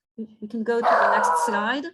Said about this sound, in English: Sorry for the barking in the back.